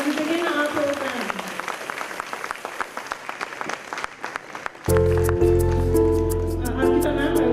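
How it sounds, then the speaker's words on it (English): Crowd applause at a kids' school annual day function, dense clapping for about five seconds before loud music with a steady beat abruptly takes over. "Huge round of applause as we begin our program."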